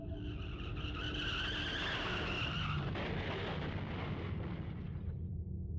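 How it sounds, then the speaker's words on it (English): Car skid and crash effect from the horror video game Corpse Party: a loud, sustained rough roar of screeching and crunching that runs for several seconds, then cuts off abruptly. "Then there was an oddly familiar sound, another car accident, again, right outside my door."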